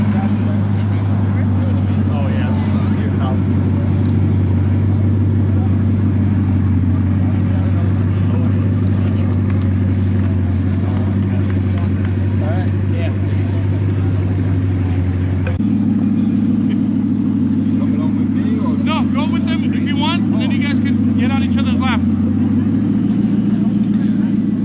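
New Lamborghini Countach with an SVJ-style exhaust driving, a deep continuous engine rumble heard from inside the car, steady and loud, with a shift in tone partway through as the revs change and people talking over it.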